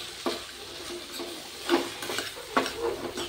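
Spiced tomato being stirred and sautéed in a pan for appe, a low soft sizzle broken by a few sharp scraping stirs, close and quiet, with no talking.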